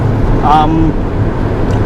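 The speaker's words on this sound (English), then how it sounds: "the engine is very solid, as you can hear and feel" A solid-running S54 engine in a rare BMW Z3 M Roadster rumbles low and steady behind a voice talking over it, with a brief higher whine partway through.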